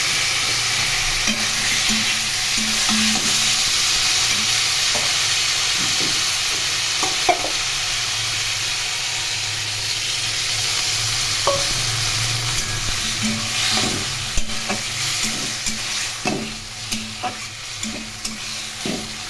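A paste of cumin, chili, ginger, onion and garlic fries loudly in a pan, a dense steady sizzle with intermittent spatula scrapes and clicks growing more frequent toward the end.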